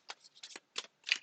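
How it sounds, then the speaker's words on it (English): A deck of tarot cards is shuffled by hand in four quick, crisp bursts of riffling and sliding cards, close and quiet with short pauses between. "I keep on shuffling the wrong decks here"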